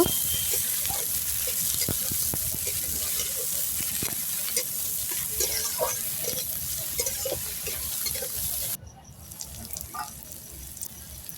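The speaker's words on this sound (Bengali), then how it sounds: "পেঁয়াজ পাতা দিয়ে একসাথে ভালো করে ভেজে নেব" Spring onion greens hiss and crackle in a frying pan, with scraping stir strokes throughout; the sizzle drops abruptly near the end.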